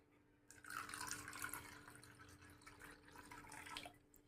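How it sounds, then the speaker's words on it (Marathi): Water poured in to make spiced pani puri water gives a soft, steady splashing stream for a few seconds. It is quiet and close, with no voices. "त्याचप्रमाणे यामध्ये आपण पाणी टाकून घ्यायचं आहे"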